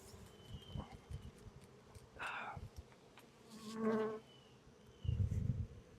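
Honey bees buzzing around an open hive during a honey super pull, with several close passes rising and fading over a quiet background and a soft knock near the end.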